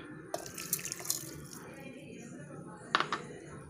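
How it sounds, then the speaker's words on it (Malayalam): Boiled and cooled water pours into a slimming drink mixture, a soft steady trickle with a few brighter splashy bursts, fairly quiet and without speech. "അപ്പോൾ അതും കൂടി ഇതിൽ ഒഴിച്ചു കൊടുക്കാം കേട്ടോ"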